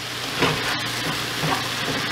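Salt fish with plenty of black pepper, getting a quick stir in a hot pan, with a steady close sizzle and a few scraping strokes of the utensil over the frying.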